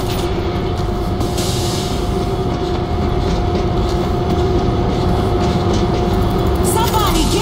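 A train rolls along in the World War Z video game, a loud continuous rumble of wheels and carriages with a steady tonal hum, heard close throughout and joined near the end by a brief voice.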